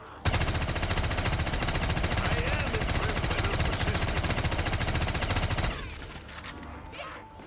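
Sustained rapid automatic fire from a light machine gun in a video game, a loud, even stream of shots lasting several seconds before cutting off, followed by quieter game sounds.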